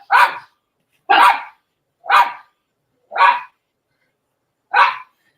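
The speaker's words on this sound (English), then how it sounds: "What are your dogs barking at?" Dogs barking in five sharp, separate barks spaced about a second apart, fairly close and moderately loud, with silence in between.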